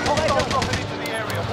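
Rapid automatic gunfire from a multiplayer shooter game with a helicopter nearby, a burst of close shots striking the player, with voice chat talking over it.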